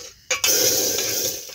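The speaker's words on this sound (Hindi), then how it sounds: "और इस पर कलछुल चढ़ा रहे हैं दाल छौंकने के लिए।" A ladle clinks in a pot as dal is tempered, then a steady hiss of sizzling oil or spices follows, close and fairly loud, with no voices.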